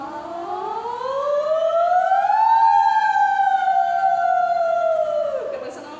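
A singer's voice imitates an ambulance siren as a vocal exercise, one smooth tone gliding up from low pitch, holding, then sliding down, sung alone and close for about six seconds.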